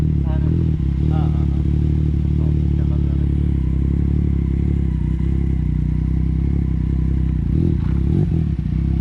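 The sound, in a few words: dirt bike motorcycle engine in a parking lot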